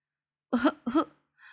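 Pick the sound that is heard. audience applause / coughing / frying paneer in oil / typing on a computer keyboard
coughing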